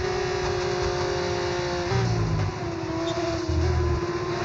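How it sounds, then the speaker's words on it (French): Racing car engines in a sim racing game league race, a steady mid-distance engine drone with two brief louder bursts as cars close in, running continuously without talk. "La voiture de derrière se rapproche"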